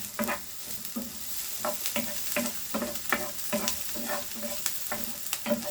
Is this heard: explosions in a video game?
no